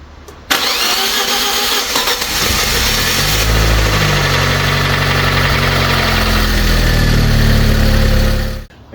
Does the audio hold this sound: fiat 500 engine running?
yes